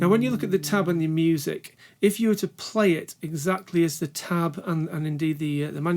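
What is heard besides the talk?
None of the usual background noises is heard.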